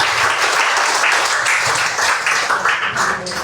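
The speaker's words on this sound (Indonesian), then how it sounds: "Sekali lagi boleh tepuk tangan buat Pak Wayan." Dense, steady applause from an audience at a morning gathering, a continuous wash of many hands clapping at even loudness throughout with no voices over it.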